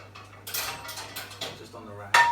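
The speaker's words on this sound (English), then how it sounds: "let me get the other frying pan" A frying pan is pulled out and handled in a home kitchen during pancake and egg cooking, giving a few close, sharp metallic clanks and rattles with quieter shuffling between them.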